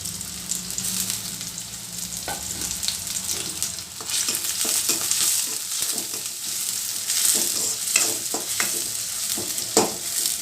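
Onion, curry leaves, garlic and chili fry in hot oil, making a dense, steady sizzle with crackling pops and intermittent scraping strokes from stirring.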